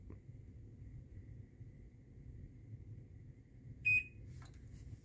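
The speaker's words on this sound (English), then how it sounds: "until you hear the opener beep." A garage door opener being set up for myQ gives a single short electronic beep close by. Faint room hiss surrounds it, and no one speaks.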